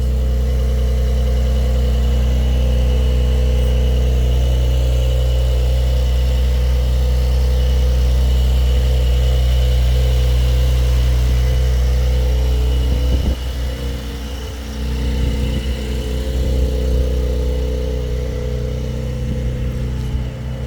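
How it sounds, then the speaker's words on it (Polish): A 2023 Porsche 911 (992) Carrera S with a 450 hp engine runs steadily at a loud, close idle, then its drone drops and settles lower partway through, with no talking. "powiem Wam, że to jest całkiem głośny samochód."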